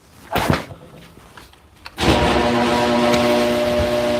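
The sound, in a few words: garage door closing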